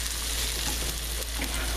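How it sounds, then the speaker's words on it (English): Yellow onion and garlic browning in a pan for a pizza topping, giving a steady, close hiss of frying that holds level throughout with no voices. "one yellow onion and some garlic, and I just want to brown it up to put on top of the pizza"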